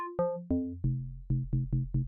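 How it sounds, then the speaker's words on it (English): Deep house bass from an FM synthesizer played in a low register: eight plucked notes stepping down in pitch and then repeating, each with a punchy attack and rounded decay, loud and upfront with no voices. "Start to get those kind of like deep house basses."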